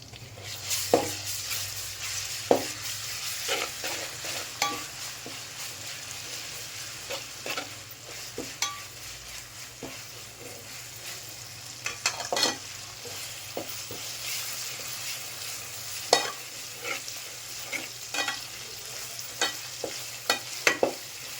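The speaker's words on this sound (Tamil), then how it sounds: "வெங்காயம் நல்லா வதங்கிடுச்சுங்க" Onions sautéing in a pan for mutton curry with avarakkai, sizzling steadily throughout with frequent sharp scrapes and clinks as a spatula stirs them, close and fairly loud with no talking.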